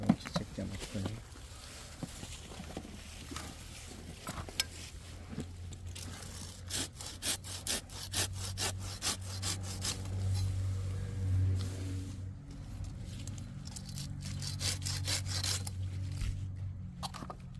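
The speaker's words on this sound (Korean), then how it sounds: "이쪽 가지를 잘라 버리게 되면 상체가 너무 크니까 이거를 잘라 버리겠습니다" A saw cuts through a tree branch during pruning, its rapid back-and-forth strokes rasping close and steady for most of the stretch, while a voice talks at times underneath.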